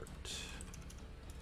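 Quick bursts of typing on a computer keyboard come through faintly, a few clustered keystrokes over a low steady background hum, with no voices heard.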